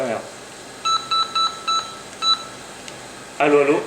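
Several short electronic beeps from a Doro walkie-talkie during a test in a basement, a rapid series of regular tones followed by a brief burst of speech over the radio at the end.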